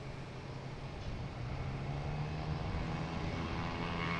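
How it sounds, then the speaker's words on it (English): A JetBlue airliner taking off from Boston Logan for Sarasota gives a steady, building engine roar with a humming tonal drone, continuous and loud, with no voices. "And we have a JetBlue taking off, heading to Sarasota."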